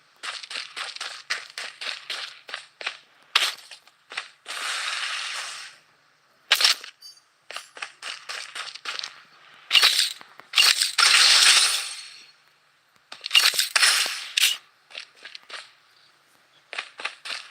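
Battle royale gunfire in the Blood Strike video game: bright, clicky bursts of rapid shots come in uneven clusters with short gaps, sometimes swelling into longer rattling runs.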